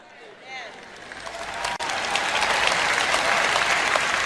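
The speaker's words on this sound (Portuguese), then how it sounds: "Agora suas palmas estão ficando um pouco fraquinhas" Applause from an audience that swells after a brief lull and keeps going steadily, dense clapping with crowd noise filling the room.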